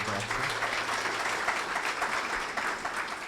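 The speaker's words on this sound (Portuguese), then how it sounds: "Peço uma salva de palmas para a doutora" Audience applause for a woman doctor after her talk at a health-services conference, a continuous spread of clapping from a seated crowd with faint voices mixed underneath.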